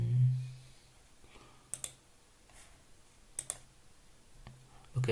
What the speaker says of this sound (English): If I double click on the pie chart, then I will get this option